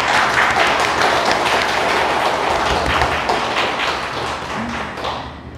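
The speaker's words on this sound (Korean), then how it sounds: "박수 한번 보내주셨으면 좋겠어요" Congregation at a Won Buddhist temple service applauding a young member, a loud close wash of clapping that carries steadily through the clip and tapers slightly near the end.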